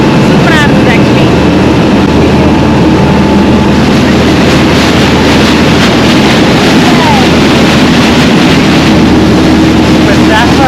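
A boat crossing open water to Staffa island in Scotland, with a steady loud engine drone, rushing water and buffeting wind noise throughout.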